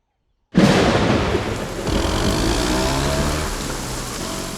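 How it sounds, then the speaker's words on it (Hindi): Heavy rain pours loudly and steadily after an abrupt start, with low rumbling thunder rolling underneath throughout, suggesting a storm heard up close. "बारिश हो रही है, साइड में लगा दीजिए ना।"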